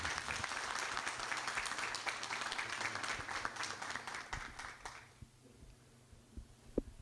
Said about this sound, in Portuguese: com um forte aplauso